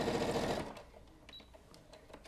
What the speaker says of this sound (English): So let's see how this does with one layer of 4 ounce leather.